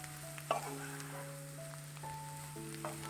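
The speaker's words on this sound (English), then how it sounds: "Add potatoes" Potatoes sizzle in a pan with an onion tadka for a Goan potato bhaji, a soft steady frying hiss with a light stir or clink, under a constant background hum and faint tones.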